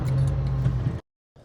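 Car engine, an older vehicle with a fault, turning over and running with a low rumble for about a second, then cutting out abruptly into silence before a faint restart of sound.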